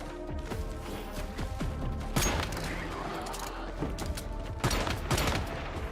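Rapid gunfire bursts from a Gatling gun in the game Once Human, loud dense volleys with sharp crashing peaks, mixed with other game sounds.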